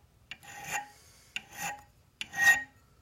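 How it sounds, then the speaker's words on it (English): Metal being deburred by hand with a needle file or honing stone, heard as three separate rasping strokes, each starting with a sharp scrape and swelling before fading, close by and with no voices. "honing burrs off of things like this really makes you take note of how quickly it'll actually take things off"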